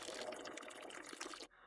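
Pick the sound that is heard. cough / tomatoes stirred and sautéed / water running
water running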